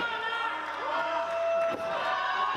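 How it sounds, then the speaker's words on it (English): A raucous crowd cheers and yells continuously at an FMLutte tag team wrestling match, a loud, steady roar that swells and dips slightly, with no clear speech over it. "this raucous crowd cheering him on"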